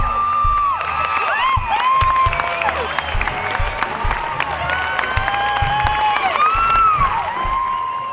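Enormous crowd of families cheering, whooping and clapping as returning brigade soldiers enter an aircraft hangar, a loud sustained roar of shouts and children's high calls filling the space throughout.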